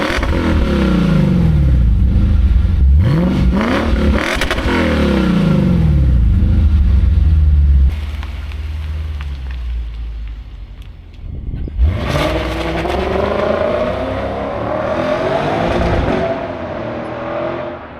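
Modified car with a 500-plus horsepower build revving repeatedly, engine sweeping up and down in sharp bursts, a pause, then another series of loud revs close by with exhaust crackle.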